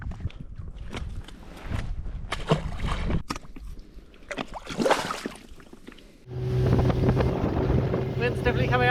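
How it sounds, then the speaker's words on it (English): Gusty wind buffets the microphone out on open water aboard a small fishing boat, with a voice talking over it; near the end a steady motor drone joins in. "Wind's definitely coming up a bit."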